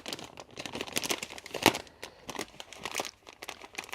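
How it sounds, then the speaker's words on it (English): Plastic packaging peeled from an item in a UK 24-hour ration pack: close, continuous crinkling and crackling with small tearing bursts and one sharper snap midway. "Now we peel off the plastic"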